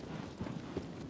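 A black horse gallops in the Shadow of the Colossus video game, a quick run of soft, muffled hoofbeats under low ambient hum.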